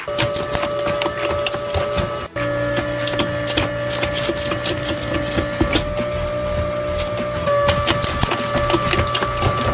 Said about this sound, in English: This process is called pad printing, in which you transfer a 2D image onto a 3D object via a silicon pad.